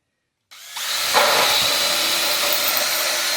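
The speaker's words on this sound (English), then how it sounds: "you're going to drill a hole straight down through it" A power drill whirs up after a moment of silence and grinds steadily down through the rusty metal of a firebowl, loud and close, with no talking.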